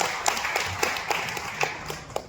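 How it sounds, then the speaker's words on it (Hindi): Applause from an audience at a human rights organisation gathering, a brisk run of overlapping hand claps, moderately loud and close, continuing evenly. "उसके लिए जोरदार तालियों से स्वागत करते हैं"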